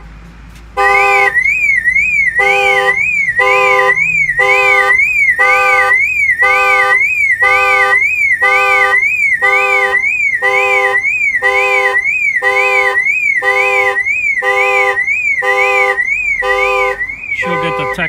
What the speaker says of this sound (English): the alarm will fire off